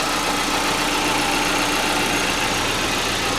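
A stock 16-valve DOHC car engine idles steadily, a constant close hum with a faint rough texture and no change in pace.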